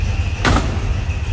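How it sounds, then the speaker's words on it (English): Car door of a 1956 Chevrolet Nomad swinging shut, a single solid thump close by over the steady low idle of the running engine. "Door closes nicely."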